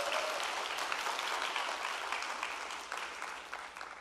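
Church congregation applauding during a worship service skit, a dense, steady wash of clapping that fills the room and slowly fades toward the end.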